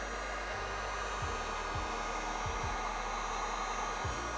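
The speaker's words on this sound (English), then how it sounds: "gonna post heat right around the F-150 badge" A heat gun blows a steady, even whoosh while post-heating paint protection film around the badge on a Ford F-150 fender, with a few faint low thumps scattered beneath the continuous hiss and no talking.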